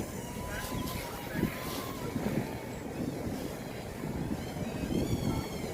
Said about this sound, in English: And now I'm flying against the wind.